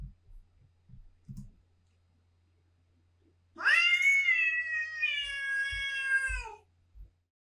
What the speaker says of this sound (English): And what about some cat mewing?